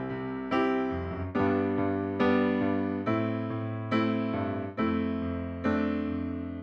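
A piano plays slow rock-style chords, bass notes alternating with sustained right-hand chords in a steady, even rhythm, fairly loud and alone.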